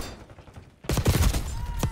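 Sniper gunfire in a Call of Duty match: after a quieter lull, a sudden loud sharp crack followed by a rapid burst of echoing shots and another sharp report near the end.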